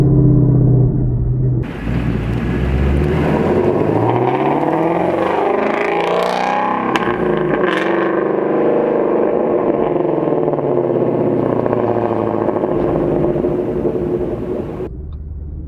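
A Shelby GT350 sports car exhaust, running on E85, roars loudly nearby, the engine revving up and down in sweeping surges before settling into a deep steady rumble.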